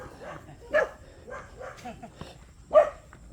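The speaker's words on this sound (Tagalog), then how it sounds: "May aso pa." A dog barks a few times, sharp yips spaced about a second apart, mid-distance, beside a creek, with people talking faintly in the background.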